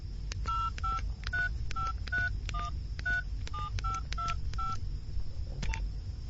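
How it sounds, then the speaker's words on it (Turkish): A mobile phone keypad dialing a number, a quick series of more than a dozen distinct tone beeps in an irregular rhythm, clear over a low background hum. "Dur şunu cep telefonundan bir arayayım."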